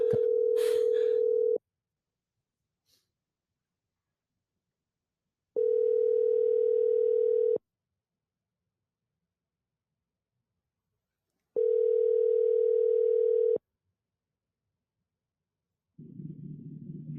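A telephone dial tone after a call is hung up: three steady, loud tone bursts of about two seconds each, separated by silences, followed by a low muffled rumble at the end.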